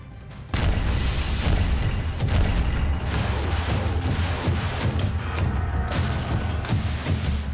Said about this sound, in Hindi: मोर्टार से दुश्मनों के ठिकानों पर हमला